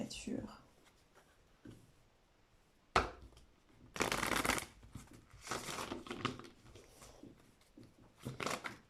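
Tarot cards are shuffled by hand in several brisk, riffling bursts of papery flutter between quieter handling sounds, close and fairly soft, with a voice speaking at moments.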